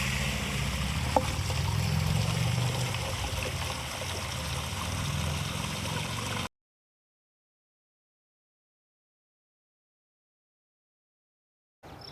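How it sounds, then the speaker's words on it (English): Water from a small solar-powered pump in a homemade bubbler fountain trickles and gurgles steadily into an upper pot, a continuous close flowing sound that cuts out partway through. "now it's filling the upper pot from the lower pot"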